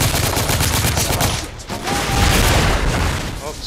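Dense bursts of gunfire from the video game The Order: 1886, rapid shots crackling loudly and continuously through the whole stretch with no voices.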